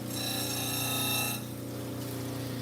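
Dremel rotary tool cutting into green garnet, a loud, steady high-pitched whine and grinding held close for about a second and a half, then easing to a slightly lower, rougher drone.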